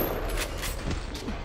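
Bursts of rapid gunfire from enemies in BioShock crackle in quick, uneven volleys at moderate loudness, with no voices over them.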